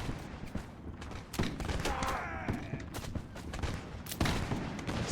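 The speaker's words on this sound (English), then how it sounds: "The artillery's active." Artillery and massed gunfire roll through a large line battle in the L'Aigle campaign video game, with repeated thumping booms and crackling volleys layered at mid distance, fairly loud and continuous.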